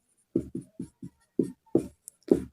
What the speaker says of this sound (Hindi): चलो, तो सबसे पहले हम एक सेंटेंस लिखते हैं।